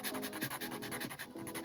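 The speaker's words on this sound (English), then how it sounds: "you've got a flat edge razor here is what it is, and it's sanding back the fibers of the paper" A flat-edge razor scraping across a watercolor pad, sanding back loose paper fibers: quiet, close rasping strokes repeated rapidly in a steady rhythm, faint and without talking.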